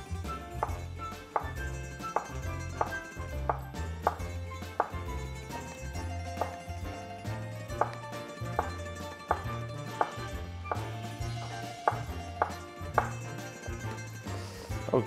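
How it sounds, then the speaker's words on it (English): A knife chops pork into lardons on a board, striking in steady, rhythmic knocks at close range over soft background music. "And kind of like cutting lardon."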